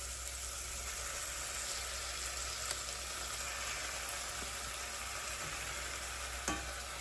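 Chicken legs frying in a pan for a Louisiana sticky chicken recipe give a steady, even sizzle and crackle that runs unbroken, with a faint clunk near the end and no talking.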